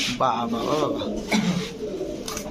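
Red and orange Chila pigeons coo in deep, rolling phrases close at hand while someone speaks over them, the calls rising and fading in short bursts.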